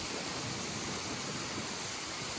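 The Wisik waterfall in Valencia, a steady broadband rush of falling water, dense and unbroken throughout with no voices over it.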